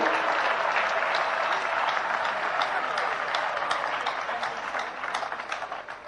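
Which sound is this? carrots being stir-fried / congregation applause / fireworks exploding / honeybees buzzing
congregation applause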